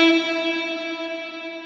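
A sustained tone run through a plate reverb on a Line 6 Helix with damping set to 10 kHz, its clear harmonics ringing on and slowly fading in a smooth, bright tail.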